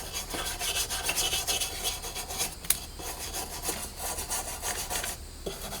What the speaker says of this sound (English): I'm just trying to loosen up some of this rust.